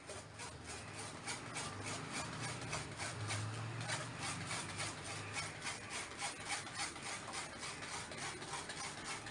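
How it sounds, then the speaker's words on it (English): Thick gravy of fenugreek, peas and cream with a little paneer is pressed and rubbed through a strainer, making a steady, close scraping rasp that repeats in quick strokes throughout. "now I'm going to strain this for getting a smooth consistency"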